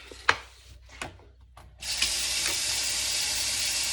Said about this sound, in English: And I got some blueberries. So I'm going to wash a handful off.